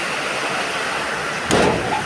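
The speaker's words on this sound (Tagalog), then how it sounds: "lakas po ng ulan" A steady, dense hiss of heavy rain pours down continuously, with a brief louder surge of splashing near the end.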